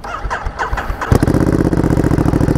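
A Ducati Diavel 1260 twin-cylinder motorcycle cranks briefly, then fires up and settles into a loud, close, lumpy idle with a deep pulsing rhythm, no talk over it.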